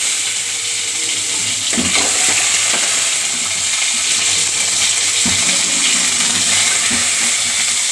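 Onions dropped into hot sunflower oil with mustard seeds, a loud continuous sizzle and crackle of frying for a green peas kurma, with a few soft stirring knocks throughout.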